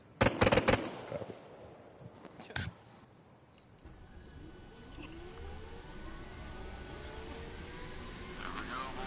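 Aircraft engines starting up in the Operation Deep Horizon setting: sharp cracking pops and bangs at first, then a rising whine and steady roar of turbines spooling up, building and holding.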